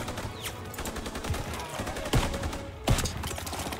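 Weapon fire in a World War 2 shooter game, with a couple of sharp, punchy shots standing out over a dense, continuous backdrop of game noise and scattered gunfire.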